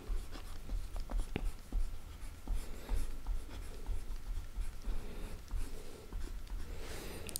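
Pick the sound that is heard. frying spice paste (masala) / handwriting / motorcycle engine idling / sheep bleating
handwriting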